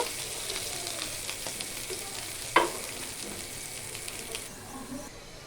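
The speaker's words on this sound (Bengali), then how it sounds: "আমি মাছটা ভিতরে একটা আলু দিলাম সুন্দর করে এটাকে ভেজে নিব" Steady, moderate sizzling of potato frying in a pan alongside fish, with a brief clink of a utensil partway through and no talk.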